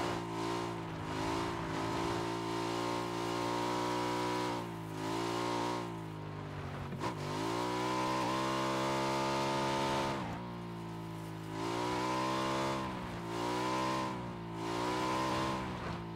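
A motorcycle engine in the video game PUBG revs and drones steadily, rising and falling in pitch through several long throttle swells, with a sharp dip midway, loud and close throughout.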